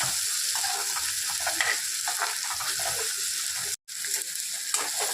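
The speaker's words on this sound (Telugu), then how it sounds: "టమాటా పచ్చిమిరపకాయలు చక్కగా మగ్గిపోవాలి" Tomatoes and green chillies fry in a pan with a steady, dense sizzle, broken by a brief cutoff near the end, with faint scraping of stirring; no voices.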